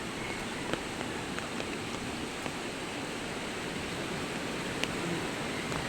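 Flood water surges after heavy rain near small footbridges, a constant broadband roar of rushing water that stays even and steady with no pauses, heard from nearby.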